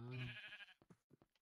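A Minecraft goat gives a single short, wavering bleat at the start, followed by a few faint soft clicks and shuffles.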